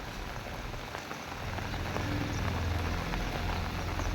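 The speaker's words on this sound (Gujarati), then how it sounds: "હવે તો વરસાદ થઈ ગયો એક નંબર." Heavy monsoon rain at Girnar pours steadily onto surfaces, a dense, even hiss with scattered drops that thickens a little partway through, with no voices.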